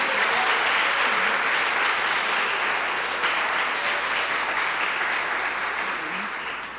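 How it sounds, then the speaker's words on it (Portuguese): Sustained applause from a church congregation at a women's gathering, a dense steady clapping that carries on for several seconds and only starts to fade toward the end. "Você pode aplaudir ao Senhor?"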